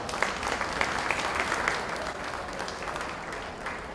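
An audience at a county fair steer show gives a round of applause: a dense, continuous wash of clapping that stays steady and fairly loud for several seconds before easing slightly, with no speech over it.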